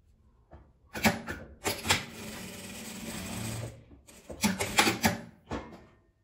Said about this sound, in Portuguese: Agora eu vou abrir e passar a costura nas laterais.